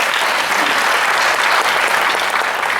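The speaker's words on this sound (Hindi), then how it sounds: "इन बड़े लोगों के लिए एक बार जोरदार तालियां बजाइए" Loud, sustained audience applause at a comedy poetry gathering (hasya kavi sammelan) in an auditorium, a thick unbroken roar of clapping from a large crowd that holds strong for the whole stretch.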